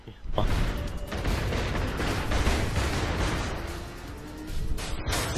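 Rockets explode in the video game Saints Row 3, a dense rumbling barrage of booms and bursts that stays loud throughout, with a player's voice faintly underneath.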